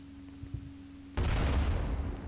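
Cannons firing in a Roblox video game, a sudden loud booming burst that cuts in halfway and rumbles on as a dense barrage after a quieter hum.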